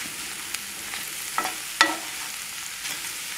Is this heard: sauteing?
yes